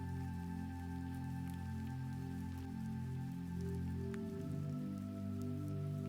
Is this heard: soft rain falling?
yes